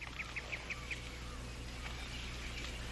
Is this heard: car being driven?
no